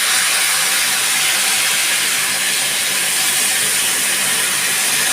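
Water poured into a hot pan of braised pumpkin curry with a little sugar sends up a loud, steady, broad hiss of steam that holds unbroken for several seconds, with no talking.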